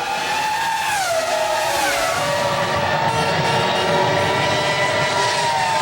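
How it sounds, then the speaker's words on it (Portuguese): Formula 1 cars racing at the Belgian Grand Prix, a loud continuous engine whine sweeping down in pitch around the circuit with no talk over it. "Diferença ou não, o Ralf vai firme para cima do Montoya. Passaram ali o Rouge."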